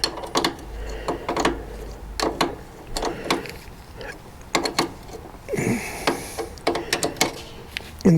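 A wrench works on a bolt of an Ariens ST824 snow thrower, giving close, repeated ratcheting clicks in short bursts with pauses between, as someone talks softly at times.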